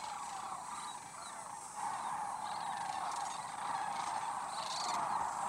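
Sandhill cranes call at the Muleshoe wildlife refuge on the Texas plains. A huge flock makes a faint, continuous chorus of rolling, honking calls from a distance.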